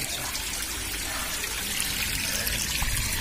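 Water trickles and splashes from a small forest waterfall, a close, steady, hissing stream with no voices.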